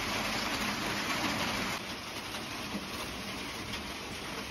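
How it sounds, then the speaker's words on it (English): Winter rain pours outdoors on an off-grid homestead, a steady broadband hiss that drops a little in level partway through and continues without voices. "I think I'm gonna have to just go out in this rain."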